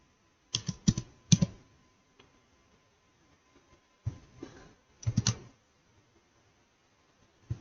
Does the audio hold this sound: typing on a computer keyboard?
yes